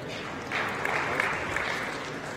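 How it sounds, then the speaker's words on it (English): Crowd at a men's recurve archery bronze medal match in Nimes breaks into a brief swell of applause and cheering after a ten is scored, a steady rustle of clapping running under the rest. "You hear the crowd getting a little exciting with 10."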